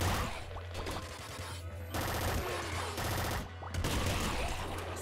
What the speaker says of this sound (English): A lot of explosions going on right now.